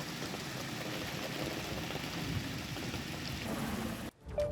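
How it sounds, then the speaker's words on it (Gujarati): Heavy rain with wind pouring down in Vadiya town, Amreli district, a dense steady roar of rainfall on surfaces, fairly distant and constant, ending with a brief break and a faint clunk. "પવન સાથે ધોધમાર વરસાદ વરસી રહ્યો છે"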